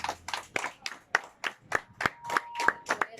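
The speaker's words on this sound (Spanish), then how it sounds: "Dele un aplauso a Dios" Rhythmic clapping from a church congregation during a Christian sermon, about a dozen distinct claps in a steady beat, fairly close, with a faint sustained tone partway through.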